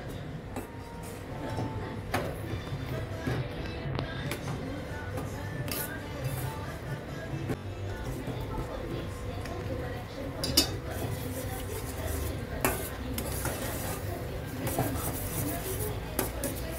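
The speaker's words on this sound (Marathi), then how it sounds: "आता याला चांगलं मिक्स करून घेऊया।" A spoon scrapes and clinks against a pan while modak filling is mixed, a steady run of metallic taps and scrapes with occasional sharper knocks, fairly close and moderately loud.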